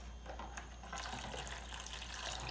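Cold water being added to a mix of apple cider vinegar, running steadily from a tap nearby as a soft continuous splash that grows louder partway through.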